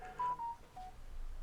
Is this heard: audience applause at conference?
no